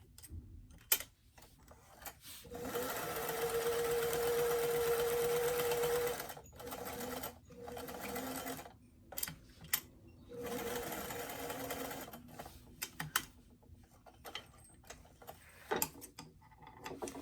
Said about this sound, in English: what I intend on doing is sewing the pants fronts together at that front seam